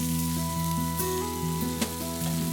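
Sausages sizzle and crackle on a fireman's shovel held over a campfire, a steady close frying hiss with an occasional sharp pop, no voices.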